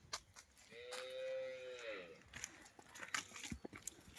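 A buffalo on a farm gives a drawn-out low moo close by, and people talk and move around it before and after the call.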